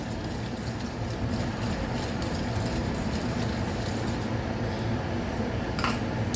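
Almonds and raisins are stirred together in a bowl for a carrot cake, giving a steady, dense rattle and clink of dry fruit and nuts against the bowl, continuous and fairly faint.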